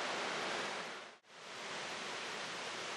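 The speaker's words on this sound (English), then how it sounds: "Wakona Falls offers another opportunity to enjoy a small waterfall" A small waterfall at Wakona Falls beside an old-growth conifer forest gives a steady broadband rush of falling water, loud and close. The sound briefly dips to near silence midway before resuming, with no voices.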